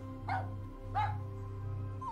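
A dog gives two short, whining yelps under a steady low background hum, each call brief and fairly close.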